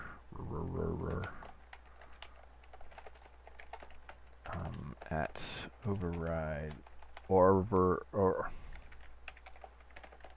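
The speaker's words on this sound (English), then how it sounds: "typing is fun" Computer keyboard typing during a live coding stream: soft, rapid key clicks run steadily in the background while someone talks over them at intervals.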